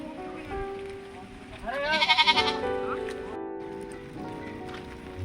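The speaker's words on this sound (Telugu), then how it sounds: "మేకకి బలి ఇచ్చే ముందు ఇంటింటికి మేకని ఊరేగిస్తారండి." A goat bleats once, close by and loud, with a wavering cry during a tribal Ashadam festival procession through the village. Voices and crowd noise run underneath.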